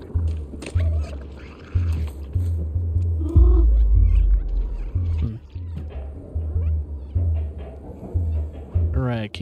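Cat sounds from the video game Stray, a meow rising over a low rumbling game soundtrack, while players talk over it.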